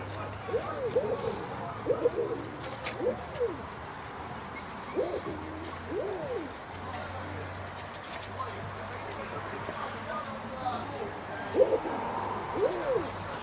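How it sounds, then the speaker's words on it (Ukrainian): Exotic pigeons resembling collared doves coo in soft, rounded, repeated phrases at moderate distance, scattered across the scene over a low steady hum. "А є ще зграйка екзотичних голубів, дуже схожі на наших кільчастих горлиць."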